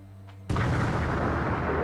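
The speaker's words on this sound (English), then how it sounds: "These tremors and explosions are proof that everyone is fighting hard against the Nautilus." After a brief quiet stretch, a sudden heavy boom erupts aboard the Nautilus ship in a video game, then rolls on as a loud, sustained rumbling roar.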